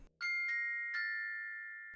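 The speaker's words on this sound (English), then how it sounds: "the bell kit," A percussion bell kit is struck three times, each hit a bright metallic ping whose clear tone lingers and slowly fades, close and heard alone.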